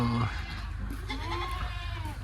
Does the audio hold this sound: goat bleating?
yes